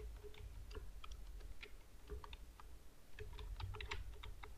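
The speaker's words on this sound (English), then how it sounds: "Now type here your text." Quiet, close clicking of computer keyboard keys in irregular bursts of typing, with a short pause midway before the tapping resumes.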